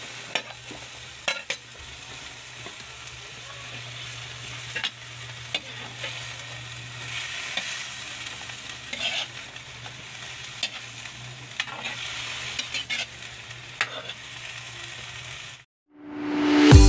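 Vegetables for chicken pinakbet hiss and sizzle steadily in a hot pan while being stirred, with scattered scraping clicks and a low hum underneath, ending in a sharp cut and a brief loud burst.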